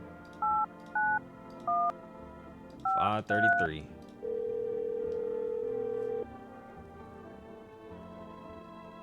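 In the No I'm Not A Human video game, a telephone dials with three short keypad beeps and a quick burst of tones, then a single long ringing tone sounds alone before fading to quiet.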